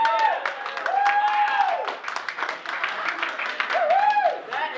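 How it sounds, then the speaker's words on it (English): An office meeting audience claps and cheers for a pest control worker coming up to the front, with scattered claps mixed with whoops and lively voices that rise and fall. "That is the most applause a pest control guy has ever gotten"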